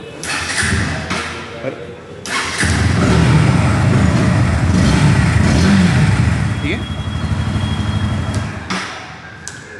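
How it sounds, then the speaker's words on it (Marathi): A 2024 Bajaj Pulsar NS160 engine starts and revs loudly inside a showroom, holding a steady throaty rumble, with a brief spoken phrase nearby and a clack at the end. "तुम्हाला बाईकचा आवाज पण दाखवतो कसा येतो"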